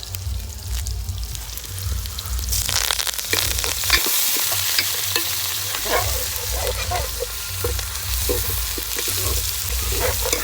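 Curry leaves with mustard seeds and crushed onion hit hot oil for Nellore fish curry, bursting into a loud, crackling close sizzle that continues with spattering pops, with no one speaking.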